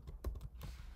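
A handful of quick keystrokes on a computer keyboard type out a file name, close and fairly soft, with no talking.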